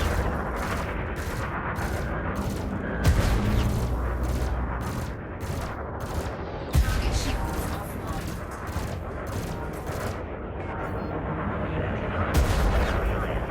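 Rapid repeated turret fire from ships during space combat in a fleet carrier video game, a steady stream of sharp bursts over a dense rumbling battle bed, loud and continuous.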